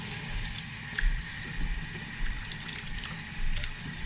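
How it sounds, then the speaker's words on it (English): Tap water runs steadily into a sink as a flat fabric face mask is wetted under it, a continuous moderate splashing with small bumps of handling. "all you have to do to wash it is just get it wet"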